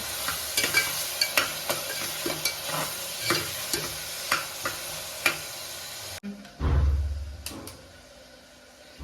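Onions sizzling gently in a pan over a low flame, with a spoon scraping and stirring in steady repeated strokes close by, then a brief clunk and a low rumbling burst near the end.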